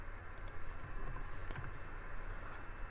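Typing on a computer keyboard, a steady run of soft clicky keystrokes, some more prominent than others, close by over a constant background hiss, with no talk.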